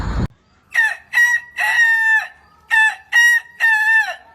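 A rooster crows loudly and close by in a run of bright, strained calls, two short bursts followed by a longer drawn-out one, with the pattern repeated and brief pauses in between.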